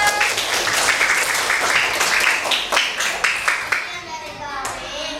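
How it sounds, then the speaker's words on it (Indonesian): A fifth-grade class claps together in a burst of applause for a student group that fades out after a few seconds, with some voices heard faintly underneath. "tepuk tangan untuk kelompok 3"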